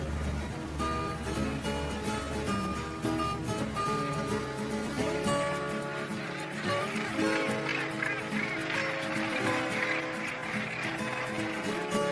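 Tens of thousands of nesting gannets call from a crowded seabird colony, a dense, loud, continuous chorus of harsh overlapping cries, with wind and a brief voice underneath.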